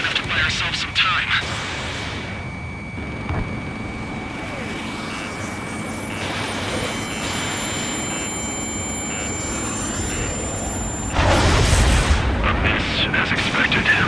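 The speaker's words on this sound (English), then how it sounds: "Some kind of energy weapon. No, it's a railgun." In Ace Combat 7, heavy railgun fire booms out, and one loud blast surges near the end over a steady jet-engine roar as radio voices talk.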